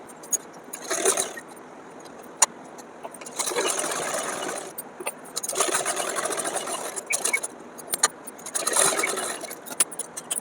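A sewing machine stitches blouse fabric in bursts, its needle running in several short rapid runs separated by pauses, with small clicks and handling noises in between.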